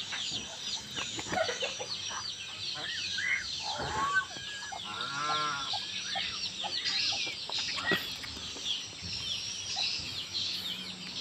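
Bangkok chickens on a farm cluck and call in short bursts, one louder rhythmic clucking run in the middle, over a constant high hiss of background noise.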